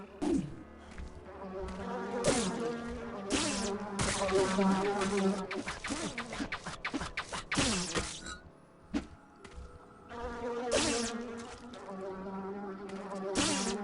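Buzzing wasps in the fantasy video game Nox, a droning insect hum rising and falling over game music and clattering effects, fairly loud throughout with bursts of swarming.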